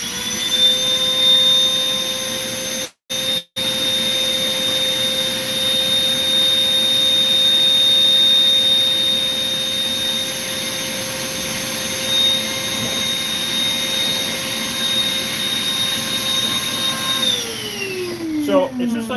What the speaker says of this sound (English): let me run this vacuum for a second